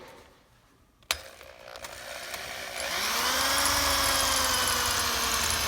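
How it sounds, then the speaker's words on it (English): A sharp click is followed by a power drill spinning up into a loud, steady high-pitched whine as it bites into hard rivets, drilling them out and running on. "That's a huge help when you start drilling these things because they're usually very, very hard."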